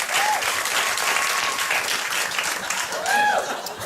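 Studio audience applause on a late-night talk show, a dense, sustained roar of clapping from the crowd with faint voices and whoops mixed in throughout.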